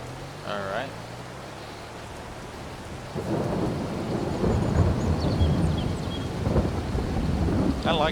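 A thunderstorm rolls in during a Midwest corn harvest: a deep rumble of thunder swells over steady rain, loud and continuous, with a brief bit of talk near the start.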